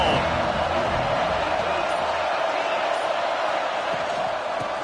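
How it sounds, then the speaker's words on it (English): A stadium crowd in a simulated football video game roars as a steady, dense wash of noise that fills the whole clip with no pauses. "This crowd ready to make its presence known."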